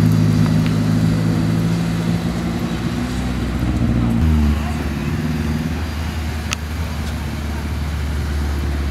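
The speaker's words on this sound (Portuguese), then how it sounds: "Incrível Renault Clio." A Renault Clio engine at a car show at a shopping mall hums steadily up close, then settles to a lower, even drone partway through.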